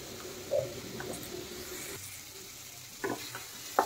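Potatoes and spice paste being stirred in a pan with a little water, a soft steady sizzle underneath and a few sharp scraping clicks of the spoon against the pan, no talking.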